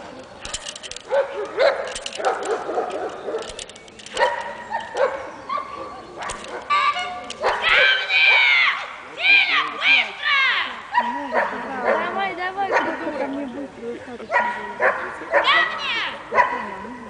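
A dog barks and yips repeatedly, close and loud, with whimpering yelps mixed in while people talk over and between the barks.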